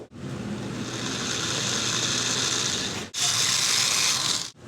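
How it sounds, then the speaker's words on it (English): A drill boring a hole in a wooden pump drill handle, a steady close whir with a high grinding edge, briefly stopping then starting again before cutting off. "and we'll go ahead and drill it."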